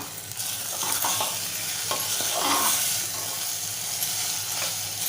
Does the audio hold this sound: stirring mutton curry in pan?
yes